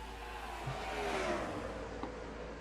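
Race trucks lap the oval at Phoenix, a distant engine drone swelling and fading as vehicles pass, steady and moderately loud with a low rumble underneath.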